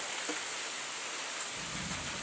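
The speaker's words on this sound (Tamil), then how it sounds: "இடி அடிக்குது, மின்னல் மின்னுது." Heavy rain hisses steadily at night in Chennai while a low rumble of thunder rolls in halfway through, deep and sustained.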